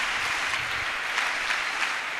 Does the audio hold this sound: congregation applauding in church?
yes